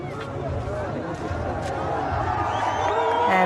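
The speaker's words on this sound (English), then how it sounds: "We can hear jeers from the crowd." A crowd jeering as a hostage is released: a dense, continuous mass of voices and shouting that swells slightly louder toward the end.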